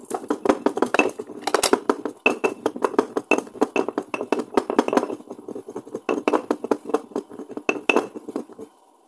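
Whole cumin seeds are ground for a marinade paste for adobo ribs, making a rapid series of close, hard clinks and scrapes of a grinding tool against a vessel in uneven bursts.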